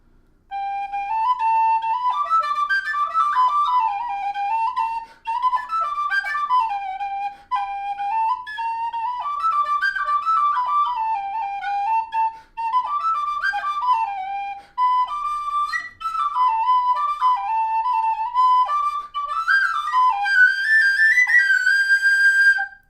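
A tin whistle plays a lively folk melody alone, clear and close, in bright ornamented phrases broken by short pauses for breath, rising into higher notes toward the end.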